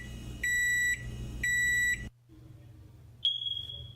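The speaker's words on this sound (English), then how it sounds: "The smoke detector." Two loud high-pitched electronic beeps in quick succession, each lasting about half a second, followed by quiet and a single longer tone.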